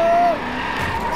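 Tires of a Maserati GranTurismo MC Stradale squeal in a brief loud skid while drifting in the racing game DRIVECLUB, then fade into engine rumble.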